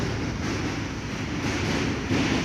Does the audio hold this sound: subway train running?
yes